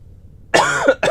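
A single close cough, sharp and throaty, followed by a brief second catch of breath.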